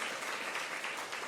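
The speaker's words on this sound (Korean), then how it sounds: "우리 큰 박수로 환영하고 축복하겠습니다" A church congregation applauds to welcome a newly baptized member during a Thanksgiving Sunday service: a short, steady burst of dense clapping from many hands.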